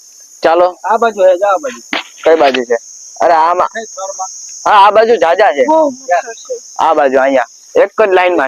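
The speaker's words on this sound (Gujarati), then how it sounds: "તો આ તમરાનો અવાજ તમને સંભળાતો જ હશે." Crickets chirping at a farm at night, a steady high-pitched trill running continuously through the clip beneath close conversation between several people.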